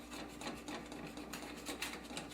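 A flat, straight butter knife scraped around the outside edge of a still-hot pan, giving a steady close scratching and rasping texture with light rhythmic pulses and no talking.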